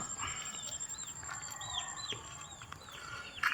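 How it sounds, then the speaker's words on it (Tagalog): Chickens clucking at a distance in a quiet garden, a few short repeated calls rising over quiet outdoor background noise. "Maririnig mo lang dito yung mga ingay ng manok."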